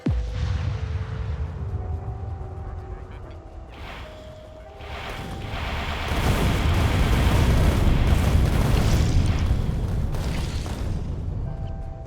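Heavy booming artillery fire in Factorio, deep rumbling blasts layered with mechanical game sounds, swelling into a sustained loud roar of overlapping explosions in the second half.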